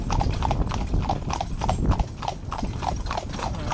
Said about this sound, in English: So you can see the bay pony straight on that at the trot.